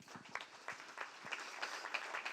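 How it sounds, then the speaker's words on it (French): A small audience claps at a talk, a faint, thin patter of scattered hands in a room, loosely spaced and continuing throughout. "Merci de l'applaudir bien fort"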